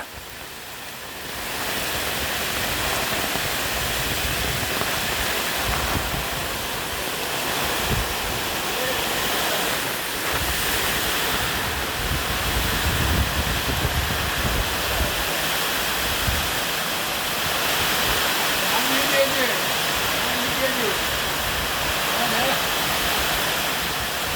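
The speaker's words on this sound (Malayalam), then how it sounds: "ചിങ്ങം ഒന്നാം തീയതിക്ക് ഒരു മഴ" Steady, dense roar of heavy monsoon rain in Kerala pouring down continuously, loud and close, with a faint voice now and then underneath.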